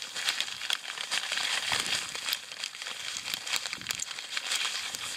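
Coarse salt is scattered and pressed over pork filet mignon being cured for smoking and drying, making a steady close crunching and crinkling patter with brief louder grains.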